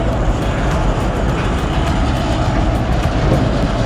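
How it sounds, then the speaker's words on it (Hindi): Steady loud rumble and rattle of the Coromandel Express, hauled by an Arakkonam shed WFE4 electric locomotive, heard from on board: continuous low roar of wheels on track with faint rhythmic clatter, no talking. "ट्रेन में अराकोणम शेड का WFE4 लोकोमोटिव लगा हुआ है।"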